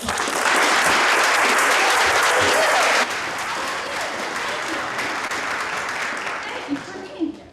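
An audience at a drama club's Henry V performance gives a round of applause, loud and dense for about three seconds, then continuing at a lower, steady level with a few sharper claps near the end.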